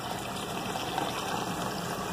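Air bubbling through a water tank from a homemade venturi, a steady, close hissing gush with constant churning texture and no speech.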